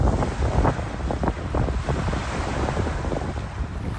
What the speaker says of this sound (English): progress is being made, wind is building